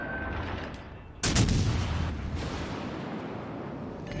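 Naval guns firing in World of Warships, a sudden heavy booming salvo followed by a long rumbling decay over an ambient background.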